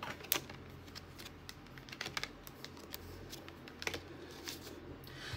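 Tarot cards are pulled and shuffled in a quiet room, giving a string of soft, dry flicks and light slaps with a few sharper snaps. The handling is close and unvoiced, over a low steady background hum.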